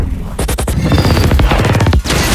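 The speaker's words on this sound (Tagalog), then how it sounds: "ngunit nahuli sila sa pagsabog" An explosion scene with a helicopter in the 2025 action film The Gorge: a loud, close burst of rapid crashing impacts and blasts tumbling over one another for about two seconds.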